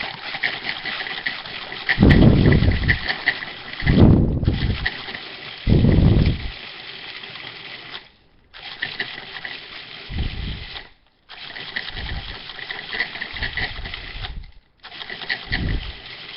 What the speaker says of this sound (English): we're going to put it in the food processor and make our own from scratch breadcrumbs